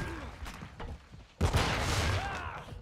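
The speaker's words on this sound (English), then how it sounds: "Oh, that's a nade." A grenade goes off in Call of Duty gameplay, a sudden booming blast that keeps rumbling for over a second after quieter game noise.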